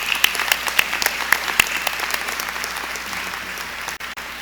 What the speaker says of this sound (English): please let's give them a round of applause